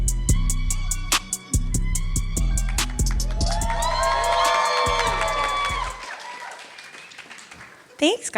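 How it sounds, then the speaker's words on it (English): A wedding reception crowd claps and cheers loudly with whoops and shouts over festive music, the applause gradually tapering off near the end. "So we're gonna give them a big round of applause."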